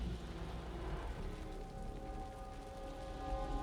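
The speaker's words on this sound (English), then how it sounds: "The rain's getting heavier." Rain falling in the game Wuthering Waves, a steady soft patter spread over a low rumble, continuous and fairly faint, with a faint tonal hum running underneath and no voices.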